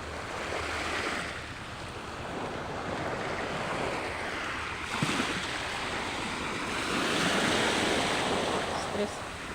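Broadband ocean surf washing steadily onto a beach, with wind rumbling across the microphone throughout.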